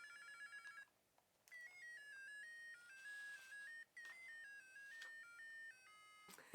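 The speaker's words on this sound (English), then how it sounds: "It is this kind of mobile phone from back then. It still works. It still does some noises." A late-1990s Polly Pocket toy mobile phone plays its electronic ringtone, a thin, bright sequence of beeping melody notes broken by brief pauses, quiet and close with no talking.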